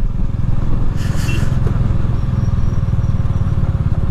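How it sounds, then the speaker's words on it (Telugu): A motorcycle rides over slippery mud on a mountain road in Spiti, between Tabo, Kaza and Chicham. The engine drones loud and steady throughout, with a brief scraping clatter near the start. "బండి బ్రేక్ వేస్తే ఆగట్లే, అంత స్లిప్పరీ ఉంది ఈడ మట్టి"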